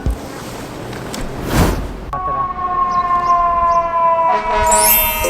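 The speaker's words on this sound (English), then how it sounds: "Is that a fire truck? It's so loud, huh?" A loud fire truck siren wails up close, its steady tone sweeping and holding after a brief whooshing burst, with a faint watery background.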